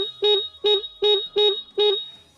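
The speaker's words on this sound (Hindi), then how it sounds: "आप लोगों को मैं आवाज़ सुना देता हूँ हॉर्न की" Five short, bright horn beeps from a 2022 Hero HF Deluxe BS6 motorcycle in an even rhythm, each a steady buzzy tone, sounding close and loud with brief gaps between.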